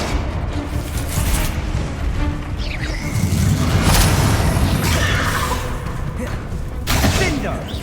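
Confringo fire spells burst repeatedly in Hogwarts Legacy combat, a run of loud booming blasts and thuds with whooshes over an ongoing battle din, a voice speaking over the fighting.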